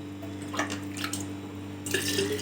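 Tap water running and splashing into a container, heard as a steady pour with irregular splashy bursts over a constant electrical hum, the flow growing louder toward the end.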